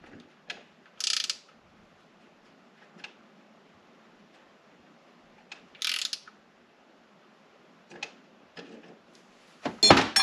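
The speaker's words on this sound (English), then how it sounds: "You just tighten, and then it's slowly going to push that in." Intermittent ratchet-like clicks and short metallic bursts come from tightening parts on a Dual Range Hydra-Matic automatic transmission during reassembly, spaced out by quiet gaps with a louder cluster at the end and no talking.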